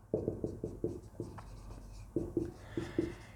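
A teacher writing on a board, chalk strokes in quick rhythmic bursts, close and fairly clear with no talking.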